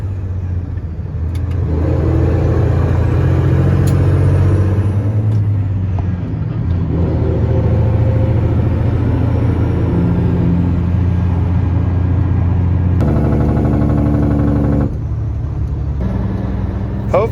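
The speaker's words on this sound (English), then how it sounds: "two Freightliners, both with N14 Cummins engines under the hood" Two Freightliner semi trucks with N14 Cummins diesel engines running, a loud, deep, steady idling rumble close by that continues throughout with slight shifts in tone.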